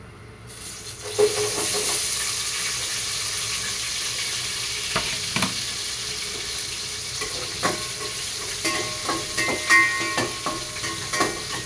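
Shellfish sauté in a hot pan with a steady close sizzle and hiss, broken by frequent scrapes and knocks of a stirring utensil, with no talk.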